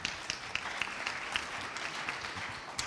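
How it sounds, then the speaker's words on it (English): A crowd gives a round of applause for the aviation company Sky Guru at a Dragons' Den style pitch event, with dense steady clapping and sharp individual claps standing out at regular points throughout. "Let's have a round of applause for Sky Guru."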